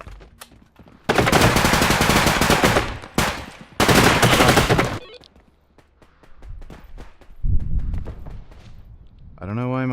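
Loud bursts of rapid automatic gunfire from the video game Max Payne 3, two long volleys close together followed by quieter scattered shots and low rumbling, with someone talking over parts of it.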